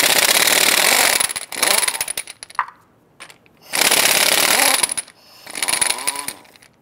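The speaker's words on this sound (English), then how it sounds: "Using our 7/8 socket, we're going to head loosen and remove our lug nuts." Impact wrench with a 7/8 socket spinning off lug nuts on the front wheel of a 2002-2008 Dodge Ram 1500, three loud rattling bursts separated by short pauses, close by with no talk.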